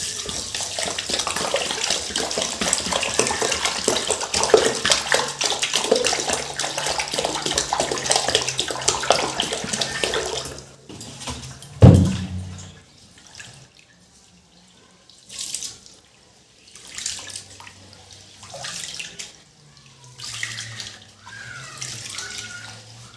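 Tap water gushes steadily for about ten seconds into a bowl to soak rice, then stops, followed by quieter sparse splashes and handling sounds.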